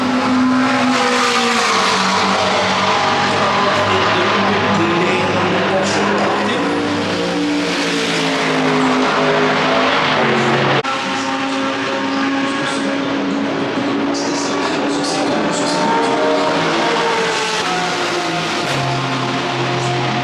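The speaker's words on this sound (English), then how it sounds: "Philippe Ellis avec la Mercedes AMG numéro 777 est talonné par la Volvo" Race cars, including a Mercedes AMG numbered 777 and a Volvo, circle the track at the CrowdStrike 24 Hours of Spa. Loud, sustained engine whine rises and falls continuously as the cars pass, with faint voices in the background.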